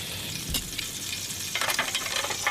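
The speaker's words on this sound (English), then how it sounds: "Starting to fry." A shore-caught mackerel fillet fries in a hot pan, its crackling sizzle swelling louder and busier about halfway through, with no voices.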